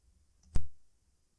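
One sharp computer mouse click on a Find button, close and crisp, alone in near silence.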